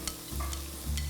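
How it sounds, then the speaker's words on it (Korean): Carrot, onion and zucchini strips stir-fried in a hot pan, soft sizzling with a few quick scraping stirs of a utensil, quiet and close. "양파, 그다가 호박도 넣어서"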